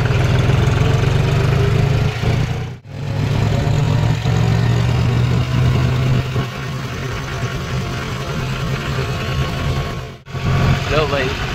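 A modified John Deere tractor engine idles with a steady, loud low rumble that runs throughout, dipping briefly twice, with voices faintly mixed in.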